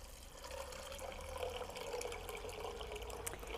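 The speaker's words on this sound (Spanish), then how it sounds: "los cubrimos con agua" Water pours from a tap over soaked chickpeas in a bowl, a soft steady splashing and gurgling fill that continues without pause for several seconds, fairly quiet and close, with no talk.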